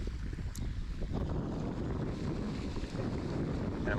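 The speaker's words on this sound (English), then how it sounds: "I'm going to apologize in advance for the wind and the fountain noise" Wind buffeting the microphone beside a lake with a fountain splashing nearby, a steady low rumbling roar that continues without a break.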